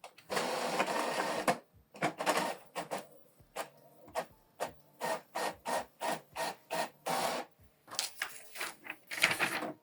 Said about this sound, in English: So now it's going to print out.